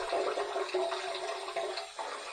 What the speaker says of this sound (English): We're going to heat this up under some hot water.